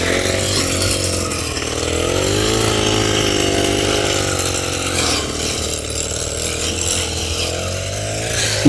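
Grass cutter clearing weeds at a housing site, a loud, steady two-stroke engine whine that rises and falls continuously and stays close throughout, with no talk.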